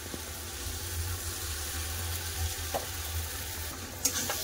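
Ginger paste, garlic paste and chopped tomato fry steadily in a pan, a soft continuous sizzle with a low hum and a few faint scraping clicks.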